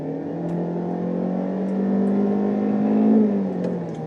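A 2019 Kia Forte with a CVT accelerating at full throttle, its engine drone steady and loud, pitch slowly climbing and then dipping as if shifting a gear, heard close from inside the car with no talk.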